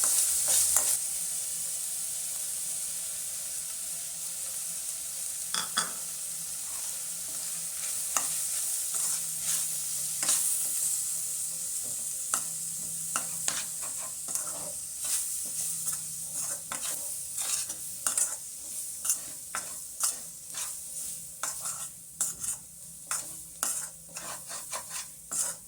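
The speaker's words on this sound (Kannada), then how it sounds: "ಕಡಲೆ ಹಿಟ್ಟು ನೀಟಾಗಿ ಇದು ಫ್ರೈ ಆಗಬೇಕು." Gram flour frying in a pan with ginger garlic paste for kachori filling, stirred steadily: a constant close sizzle under repeated scraping strokes that grow busier and more rhythmic toward the end, with no talking.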